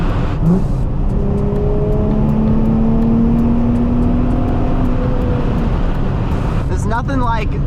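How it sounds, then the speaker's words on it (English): A new Nissan Z accelerates at full throttle on an open canyon road, heard from inside as a loud engine drone whose pitch climbs steadily through the gear, with a voice speaking briefly near the end. "I'm gonna gas it right here."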